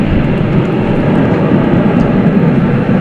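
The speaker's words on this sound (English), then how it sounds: "That's an Airbus A330. A330-300." An Iberia Airbus A330-300 airliner comes in to land at night at DFW airport after a long flight from Madrid, giving a steady, loud broadband jet roar that holds evenly throughout.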